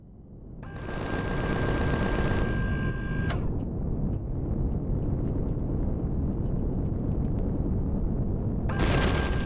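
Sustained automatic gunfire in the sci-fi survival game Empyrion Galactic Survival, a loud rapid rattling burst lasting a few seconds, then a rumbling explosive wash with a thin whine, and another burst at the end.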